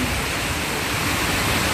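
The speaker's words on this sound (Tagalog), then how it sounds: "Sobrang lakas ng ulan." Heavy downpour in a city park, a loud, dense, unbroken roar of rain hitting surfaces with no pauses or voices.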